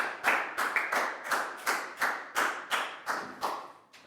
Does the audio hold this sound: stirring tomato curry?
no